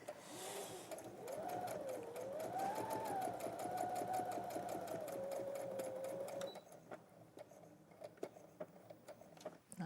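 A domestic sewing machine runs steadily up close, its rapid needle clatter and whirring motor continuing for several seconds before stopping, leaving a few faint clicks and handling sounds.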